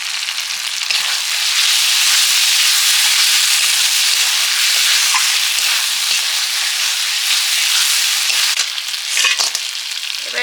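Potatoes that were fried earlier go into a hot pan for a crab dish, setting off a loud, steady, close-up sizzle with crackling and bursts of stirring throughout.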